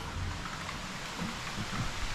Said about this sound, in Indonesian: Wah ini hujan badai di luar guys.